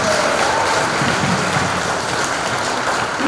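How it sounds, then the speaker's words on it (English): An audience at a middle school National Junior Honor Society induction claps for the principal, a dense, steady wash of applause from many hands in a hall, loud and continuous throughout. "I'll give a nice round of applause for her."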